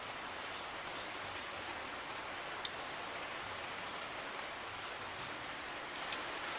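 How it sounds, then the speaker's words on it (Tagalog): Steady rain falling outdoors, a soft, even hiss of drops with a couple of faint ticks, continuous and moderately distant with no talk over it. "So maulan po dito ngayon"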